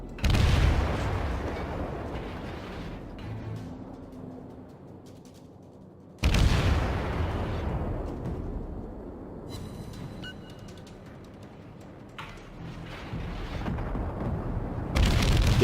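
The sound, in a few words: naval gunfire and shell hits, World of Warships video game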